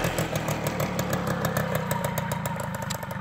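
A small MBK Mag Max moped engine idles steadily and slightly low, a low putter with rapid regular clatter, close and even throughout, no voices.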